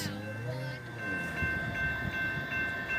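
A mixed freight train rolls by close up, a steady heavy rumble of cars with a sustained horn tone held through the pass.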